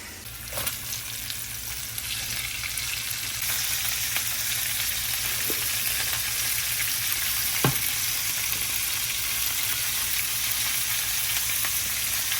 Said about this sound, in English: then I'm just gonna dump the asparagus in, salt, pepper, let it cook